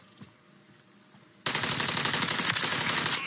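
Sustained automatic gunfire in a Call of Duty video game bursts in suddenly after a quiet stretch, then holds as a loud, dense, continuous rattle of rapid shots to the end.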